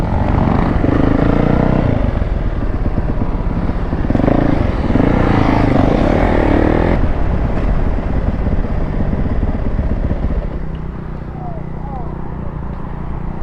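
A two-stroke dirt bike engine runs loud and close with a raspy, buzzing drone that swells and settles, then drops to a steadier idle, while people talk over it.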